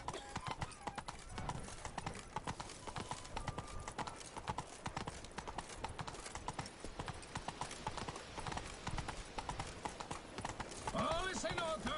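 Horse hooves gallop in The Witcher video game, a fast, continuous clip-clop rhythm heard moderately close, with game dialogue and a faint whinny layered over it.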